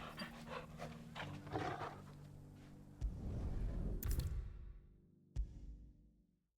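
A dog in the video game Final Fantasy 16 pants in quick rhythmic breaths, faint and close, followed by a louder rustling swell and a sharp thump before fading to silence.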